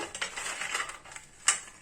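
Crisp fried wheat-flour snacks rattle lightly against a plate in a quick scatter of small, dry clicks and clatters, fairly quiet and close, with no voices.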